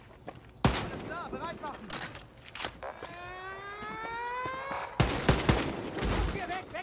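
Gunfire in the first-person shooter Wolfenstein: Youngblood: a few loud, sharp blasts spread across the clip, with a rising alarm-like tone between them and someone speaking at times.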